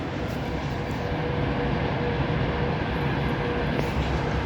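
A train rolls past in a town, a steady broadband rumble and roar filling the whole moment, fairly close and continuous with no talking over it.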